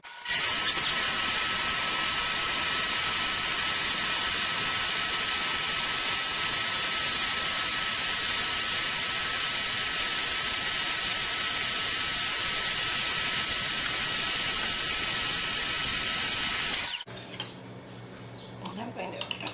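Electric mixer beating raspberry and vanilla meringue, a steady loud whir with rattling metal against the bowl running unbroken for about seventeen seconds before cutting off.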